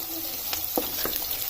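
Onions frying in a pan for an Assamese fish curry give a steady, soft sizzle close by, with a few brief clicks and scrapes from stirring and no talking.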